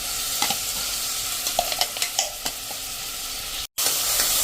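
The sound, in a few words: chopped onions and garlic sautéing in a pan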